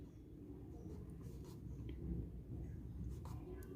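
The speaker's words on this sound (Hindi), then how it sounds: "तो अब ये लिखते हैं" Pen strokes on paper while a maths problem is written out in a lesson, giving faint, close scratching in short bursts over a quiet background.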